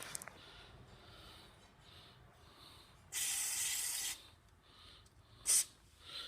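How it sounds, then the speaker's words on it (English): Two bursts of aerosol spray hiss as lubricant is sprayed onto snowblower bearings, one lasting about a second and a shorter puff after, close by against a quiet background. "Now we'll come around, grease these bearings. Actually just, spray them."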